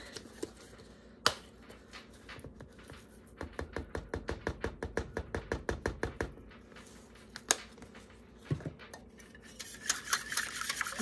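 A whisk scrapes rhythmically through a sauce as Italian seasoning, salt and pepper are stirred in, a quick run of close, even clicking strokes with a few isolated taps before and after.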